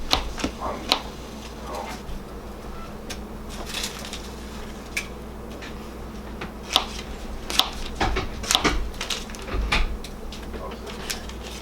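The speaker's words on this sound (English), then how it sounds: "I'm gonna go ahead and cut this butter up while that's heating up" A knife slices butter into thin pieces on a board, quiet scattered taps and soft cuts at irregular intervals over a low steady kitchen hum.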